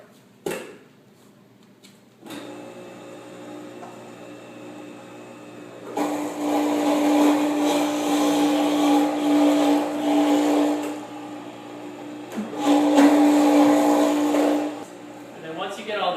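A Norwalk juicer grinds carrots with a steady whirring, rasping motor drone that rises in two loud stretches, preceded by quieter mechanical hum and clicks.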